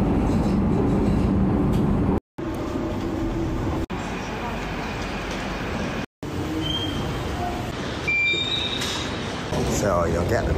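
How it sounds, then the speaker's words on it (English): A driverless Docklands Light Railway train in London runs along the track with a steady loud rumble and rolling noise, a few brief high wheel squeals rising near the end. "Here is the driverless Docklands Light Railway."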